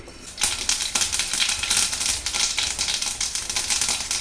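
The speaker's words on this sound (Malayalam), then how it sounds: "കടുക് പൊട്ടിക്കഴിയുമ്പോൾ" Dense, rapid crackling and popping of mustard seeds in hot coconut oil, loud and close, continuing steadily after a brief quiet start.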